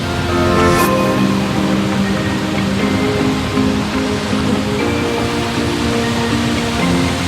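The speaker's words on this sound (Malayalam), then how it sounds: "നമ്മൾ ആ വാട്ടർഫോൾസിൽ തൊട്ടടുത്തെത്തി" A waterfall near Munnar pours in a steady rushing roar, close and loud, with faint tonal hum and brief incidental sounds over the continuous water noise.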